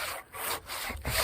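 A manual hand saw cuts through wood in steady back-and-forth strokes, each rasping pass close and loud with brief gaps between them.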